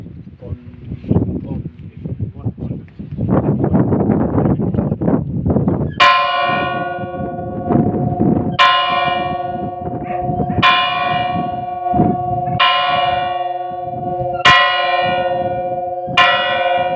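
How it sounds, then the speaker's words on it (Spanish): A church bell in Trébago, Soria, tolls in a steady series of loud, ringing strikes that each hang and decay into the next, after a stretch of windy outdoor noise and handling sounds. "24 campanadas seguidas"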